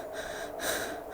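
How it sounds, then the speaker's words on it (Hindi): Heavy breathing in a dark, silent room, a close, airy rasp of a few drawn breaths with soft swells and no other sound. "खामोशी इतना कि वो अपने सांसों की आवाज खुद सुन सकता है।"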